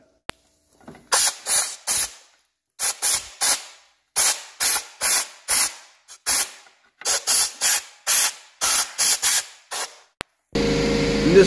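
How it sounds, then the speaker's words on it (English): Repeated short bursts of an air blowgun clearing debris from an ATV skid plate during a front differential service, about fourteen sharp hissing blasts in quick irregular pairs and runs, loud and close, with no talk. "we're going to clean that out with a blowgun"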